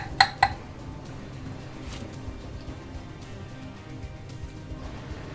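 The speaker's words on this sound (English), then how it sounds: "I'll just stir it up in the crock pot." Venison chili is stirred in a crock pot: two sharp clinks of the spoon against the pot come near the start, then a quieter scrape and soft squishy stirring that goes on at a low level.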